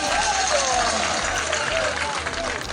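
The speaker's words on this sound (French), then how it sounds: "Vous pouvez vous applaudir très fort." A crowd at a political gathering claps loudly in a dense, continuous roar of applause that runs the whole length, with a deep hum underneath.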